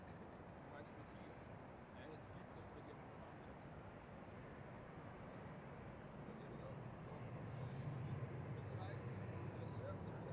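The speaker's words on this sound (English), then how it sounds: "An A320 touching down there. Spoilers up, reverse," An Airbus A320 touches down at Zurich Airport in crosswinds, spoilers up and reverse thrust engaged, giving a steady, distant broad roar that swells toward the end while a voice talks over it.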